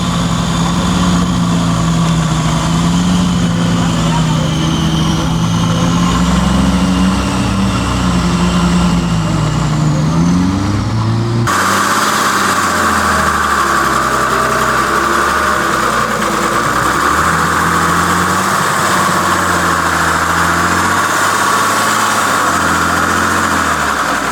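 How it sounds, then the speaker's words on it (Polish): A 3-litre diesel engine idles loudly and steadily, with a rough low rumble and clattering knock that holds throughout. "Czemu ten silnik tak klekocze? Bo to jest 3 litry diesel"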